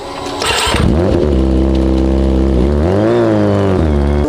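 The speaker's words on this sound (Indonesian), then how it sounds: "Itu kayaknya suara motor juragan aku" A motorcycle engine starts up close and loud, then revs and idles with a rough, steady drone, briefly rising in pitch before settling.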